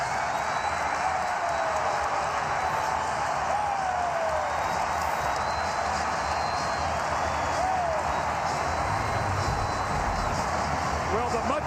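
A basketball arena crowd at the 2010 Western Conference Finals Game 4, Lakers vs Suns, applauds and cheers in a steady, dense roar that fills the whole span, with a commentator talking over it.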